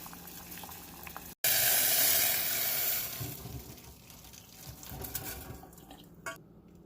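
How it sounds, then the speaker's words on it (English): Boiled almonds being strained off the stove, a loud burst of rushing, splashing water pouring out that swells to a steady hiss, then tapers into trickles and drips. "So now I'm going to take it off the stove and strain them."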